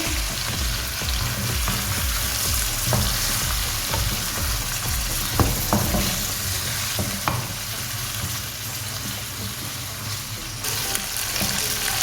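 Chicken pieces frying in a karahi over a medium flame for restaurant-style chicken karahi, a continuous loud sizzle with scattered stirring clinks and scrapes and no talk.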